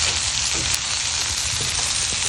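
Salted dry fish frying Jaffna style with chili powder and curry leaves, a loud, steady, dense sizzle of hot oil filling the clip without a break.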